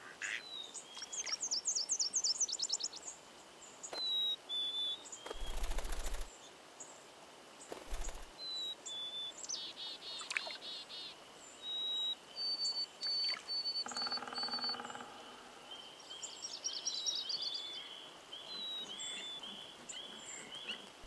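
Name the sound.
birds calling in the wild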